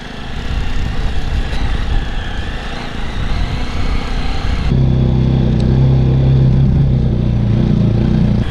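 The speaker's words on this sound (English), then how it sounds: "The bikes are just sliding all over right now because there's way too much sand here." Jawa 42 motorcycles ride and slide through deep sand, their engines a loud, steady drone that shifts to a harsher, lower-pitched note partway through, with wind and grit noise throughout.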